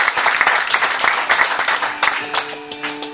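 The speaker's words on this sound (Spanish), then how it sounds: "Una ofrenda de palmas al Señor." A church congregation claps together during a worship service as an offering of praise, a dense run of hand claps from a large, reverberant room with faint sustained tones entering near the end.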